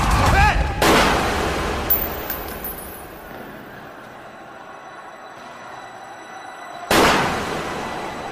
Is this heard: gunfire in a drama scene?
yes